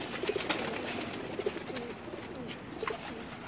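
Pigeons coo in short, soft repeated bursts on a rooftop loft, close but fairly quiet over a steady background hiss, with no talking.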